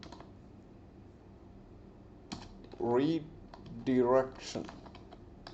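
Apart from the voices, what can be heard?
typing a folder name on a computer keyboard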